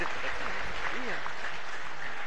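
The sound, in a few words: audience applause at a debate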